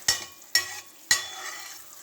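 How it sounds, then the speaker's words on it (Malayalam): Two pieces of butter hit a hot pan, three sharp scraping clatters over a soft steady sizzle as the butter melts. "2 പീസ് ബട്ടർ ഇട്ട് ഗൈസ്. ഇനി നമുക്കൊന്നത് ഉരുക്കി കൊടുക്കാം."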